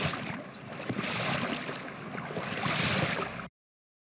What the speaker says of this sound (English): Gondola.